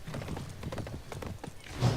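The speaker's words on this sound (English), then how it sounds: "Guan Yu's here. He has a horse" Horse hooves clip-clop in the video game SMITE as the character Guan Yu rides his mount, a quick run of crisp, rhythmic hoof knocks over about two seconds, fairly quiet.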